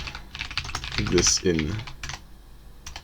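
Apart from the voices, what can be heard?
typing on a computer keyboard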